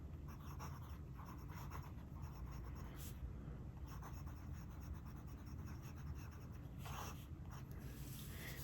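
A Laban Formosa fountain pen with a broad nib scratches across paper in a quiet room, producing soft, close strokes in short bursts with brief pauses and no voices.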